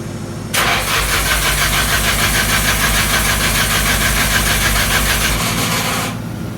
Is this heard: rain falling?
no